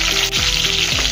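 Stuffed eggplant (bharwa baingan) sizzles steadily in hot oil as it lightly fries, a close, continuous crackle with brief scraping stirs, no voices.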